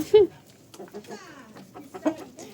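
Chickens being fed porridge give a few soft, short clucks and murmurs, one louder call at the start and scattered quieter ones after, close by in a quiet farmyard.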